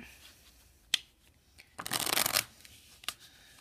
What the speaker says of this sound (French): on va mélanger ce petit paquet de cartes qui n'attend que à être mélangé